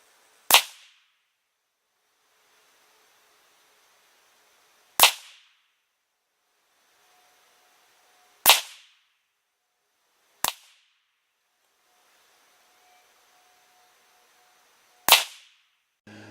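Five sharp rifle shots of PPU .223 55-grain FMJ ammunition are fired through a SOTA Arms 16-inch 5.56 upper at a 100-yard range. Each loud crack is isolated and separated by several seconds of quiet.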